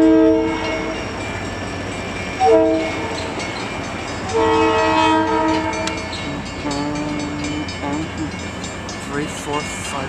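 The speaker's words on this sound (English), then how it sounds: "Here's the twin set of locomotives." A pair of GP40 locomotives rumble past with repeated horn blasts sounding in several bursts over steady engine drone, loud and close.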